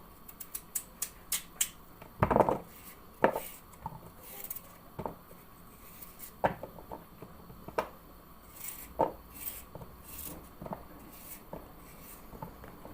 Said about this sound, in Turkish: İlk önce patatesimizi doğrayalım.